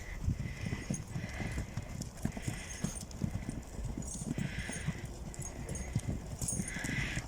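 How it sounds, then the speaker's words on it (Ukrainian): A mare's hooves clip-clop steadily as she trots and runs about an outdoor paddock, a continuous rhythmic patter of hoof falls at close to moderate distance, with no talking. "Ой, Лінора вже веселіше бігає"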